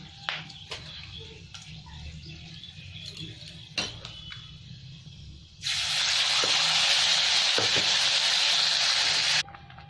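Ground onion-tomato paste hits hot oil spiced with cinnamon, bay leaves, cloves and peppercorns, bursting into a loud, steady sizzle midway after quieter clinks and stirring taps, then cutting off abruptly.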